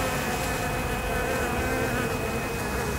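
Dense, continuous buzzing of many honeybees close by, feeding on honey, a steady droning hum with no pauses.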